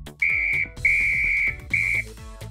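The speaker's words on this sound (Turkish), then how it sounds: "Bir de düdük var." Three sharp, shrill whistle blasts, loud and close, the middle one longest, separated by brief gaps with low clunks and thumps underneath.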